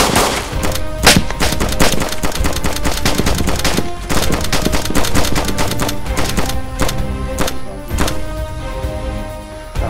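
Gunfire in the survival video game DayZ, a loud, rapid, sustained barrage of sharp shots with dense bursts and brief pauses, close and dominating the whole stretch.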